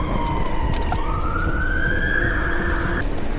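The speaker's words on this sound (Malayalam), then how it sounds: "ഫയർഫോഴ്സ് പോയി." A fire engine siren on a London street wails loudly with a slowly rising tone as it passes close by over steady traffic rumble.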